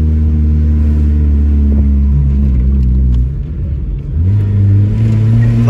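A Honda car revs steadily while its wheels spin in place, a loud, close, droning engine rumble with a brief dip in pitch partway through before it climbs back up. No one talks over it.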